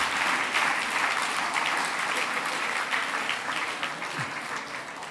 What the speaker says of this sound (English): Not too much clapping, this is supposed to be 2 minutes.